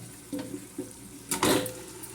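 Water splashes from a small mixer jar into a pressure cooker of chicken kabsa, a short watery pour with a brief louder gush near the end, close and quiet.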